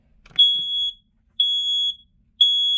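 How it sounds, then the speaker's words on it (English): A smoke alarm under test gives three loud, piercing, half-second beeps at a regular one-second rhythm, with a faint click just before the first. "we're going to go ahead and test this alarm right here"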